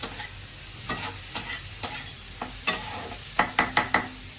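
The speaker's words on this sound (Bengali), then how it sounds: "তো ফুলকপি আলুটা আমি দিয়ে দেবো এর মধ্যে। ভালো করে একটুখানি কষিয়ে নিচ্ছি এটা।" Cauliflower and potato pieces sauté in spiced oil in a pan, a steady sizzle broken by sharp scraping stirs that come in quick bursts near the end, close and with no one talking.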